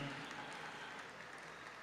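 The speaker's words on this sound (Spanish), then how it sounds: "También la recibimos con un fuerte aplauso." Audience applause at a national meeting panel session, steady and dense clapping filling the room at even loudness throughout without pause.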